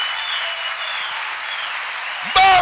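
A church congregation applauds during an Easter-themed sermon, a steady broad wash of clapping that holds evenly throughout before a brief voice cuts in at the very end.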